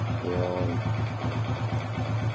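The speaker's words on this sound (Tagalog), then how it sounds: "Hindi mo maintindihan kung saan ang gagaling yung ingay ng makina." A Honda XRM125 motorcycle engine runs noisily at close range, a steady loud drone with a rough grinding, ticking rattle pulsing through it, continuous for the whole span with no talk.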